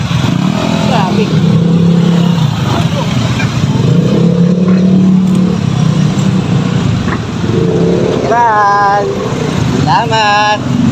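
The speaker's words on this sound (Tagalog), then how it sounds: "Traffic." Busy road traffic in Marikina, cars and motorcycles rumbling and revving close by, with horn-like tones near the end, under steady talk from people riding along.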